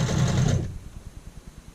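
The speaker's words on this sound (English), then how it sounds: "We're sewing a 1/2 inch seam allowance." A sewing machine stitches a half-inch seam along a child's shirt collar. A dense whirring burst gives way to a steady run of evenly spaced, close mechanical needle thumps.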